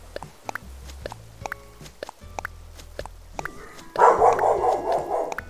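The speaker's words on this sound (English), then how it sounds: "Someone just delivered a package, so my dog likes to freak out when that happens too" A pet dog barks in repeated sharp bursts at a package delivery, with a louder, denser stretch of barking near the end over background game music.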